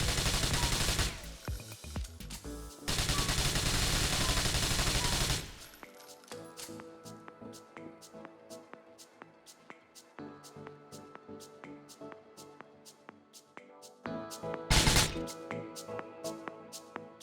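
Gunshots fire inside a closed room in the video game GTA IV. Loud, sustained bursts come in the opening seconds with short breaks, then a quieter stretch with steady rhythmic ticking, and another sharp loud burst near the end.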